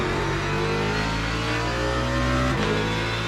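A racing car engine drones loudly and close in Le Mans Ultimate at Monza, pitch climbing steadily under acceleration before a brief shift, other BMW race cars nearby, no talk.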